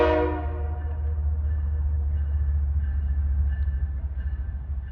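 A BNSF freight train's horn blares briefly at the start and fades, leaving a steady low rumble of rail cars rolling past outdoors.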